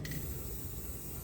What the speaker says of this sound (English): and we are gonna spray paint them.